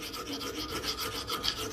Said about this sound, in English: File that crap away